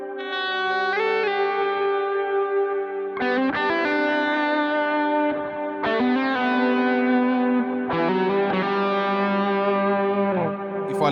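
An electric guitar plays solo with distortion and echo effects, four sustained, singing phrases with bent notes ringing out loud and alone.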